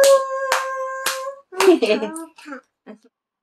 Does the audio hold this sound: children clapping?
yes